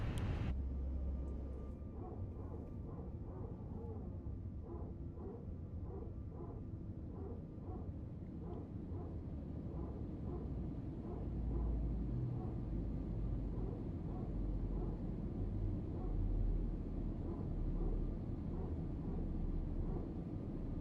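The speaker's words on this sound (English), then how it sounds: "I think that engine started." An aircraft engine in Microsoft Flight Simulator 2020 runs as a steady low rumble with a faint rhythmic pulsing, continuous and moderately quiet throughout.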